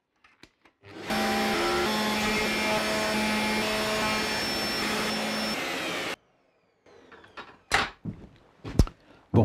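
A wood router cutting a rabbet along the edge of a board for a jig, droning loud and steady for about five seconds, then cutting off, followed by a few sharp knocks and handling clatters.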